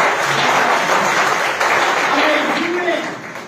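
Audience clapping at a religious talk, a steady wash of applause sustained throughout and fading slightly at the end, with a voice speaking over it.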